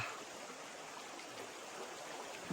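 A river in a rainy valley rushes steadily, a broad, even wash of flowing water with no pauses, fairly close and continuous throughout.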